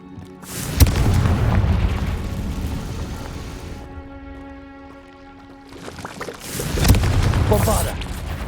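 Loud booming spell blasts from the Hogwarts Legacy video game, a deep explosion near one second and another near seven, with rumbling combat noise and a sustained tonal drone between them.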